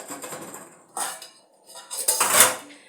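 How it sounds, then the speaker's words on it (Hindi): Dishes, pots and cutlery clatter and clink in a kitchen during washing, with three busy bursts of knocking and scraping separated by short pauses, close and fairly loud, no talk. "मेरे बर्तन भी पड़े हुए धोने के लिए"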